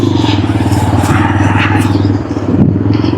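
A motorcycle engine drones steadily and loudly at close range while riding on a hilltop route, a low rumbling hum with some rattle and a slight dip and surge toward the end.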